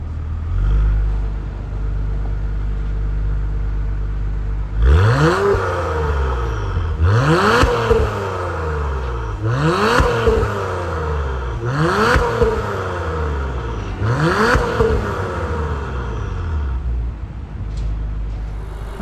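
A 2023 Acura TLX Type S with a 3-liter turbocharged engine and quad-tip exhaust revs five times in even succession, each sharp rise and falling whine loud and close over a steady idle rumble.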